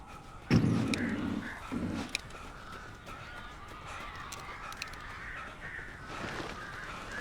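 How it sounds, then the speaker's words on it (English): Crows in the video game Alan Wake give a couple of loud, harsh caws near the start, followed by a quieter eerie ambient bed with faint calls. "These birds are weird."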